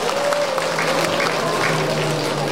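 Audience applause at the opening ceremony of a 2024 Yeongdong County resident self-governance program contest at a wine festival venue, a steady, dense clapping that fills the whole stretch with a faint voice or tone underneath.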